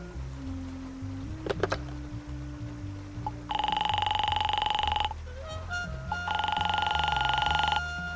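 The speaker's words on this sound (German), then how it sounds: "Das Telefon." An old-style telephone rings in the noir adventure game Face Noir, with two long, loud bell bursts separated by a short pause, heard over low background music.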